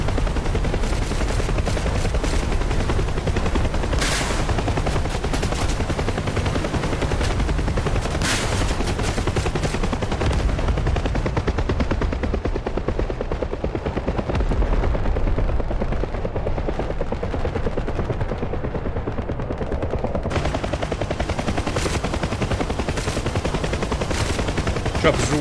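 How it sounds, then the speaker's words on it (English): In the DCS combat flight game, helicopters hammer a brigand base with machine guns, a continuous dense roar of rapid gunfire and rotor noise with little letup, loud throughout. "Choppers all over that brigand base"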